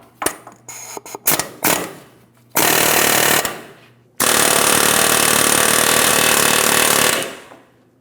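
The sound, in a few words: air hammer driving out wheel bearing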